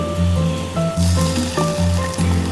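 Ginger garlic paste and ground spices sizzle with meat for aloo gosht, a steady hiss running close and fairly loud beneath background music with held tones.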